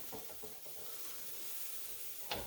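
Roux gravy for crock pot smothered pork chops being stirred with a spatula, giving a faint, steady hiss and soft scraping with a few light taps, quiet and without talk.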